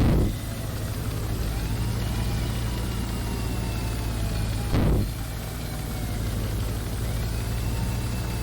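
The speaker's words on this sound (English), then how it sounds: "I hear the noises of an engine starting near constantly" A vehicle engine in the Stormworks: Build and Rescue game idles with a steady low rumble and droning tones, broken by two brief louder surges as it revs or starts.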